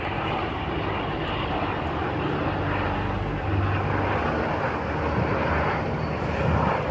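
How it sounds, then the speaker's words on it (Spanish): A continuous, loud rotor and engine roar from three helicopters passing overhead, steady throughout with a slight swell partway through. "Que serán tres helicópteros"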